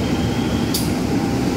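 A 12-car commuter train bound for Bekasi pulls into track 1 at Jatinegara station, a loud, steady rumble of rolling stock with a brief high hiss partway through.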